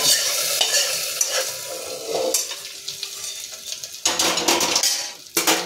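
Tempering sizzles hard in a pan while a spoon stirs and scrapes against the metal, made for a mango and amaranth dal. The sizzle comes in bursts, with a louder hiss near the end. No one speaks.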